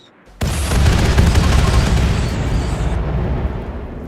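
Antigrain warhead explosions in Rimworld erupt suddenly into a loud, sustained rumbling roar with a crackling texture, rolling on for several seconds before fading.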